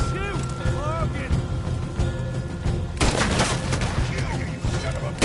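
Rapid gunfire in a Red Dead Redemption 2 shootout against attackers, bursts of shots crackling continuously over game music and effects, growing denser partway through.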